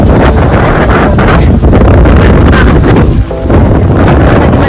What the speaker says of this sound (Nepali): दामी हावा चलिरहेको छ मन्दिरमा